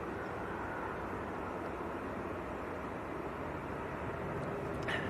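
An Iberia Airbus A320 jet arriving from Madrid on approach to land at Manchester airport, a steady, fairly distant broadband engine roar that holds constant throughout, with no talk over it.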